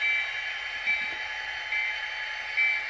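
A model SD40-2 diesel locomotive runs on a layout with its speaker broken, giving a steady, loud electronic hum and whine with faint low rumbling and brief periodic swells.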